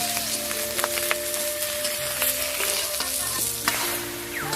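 Cabbage fries and is stirred in hot oil in a wok, giving a loud, continuous sizzle with scraping strokes throughout and no talk.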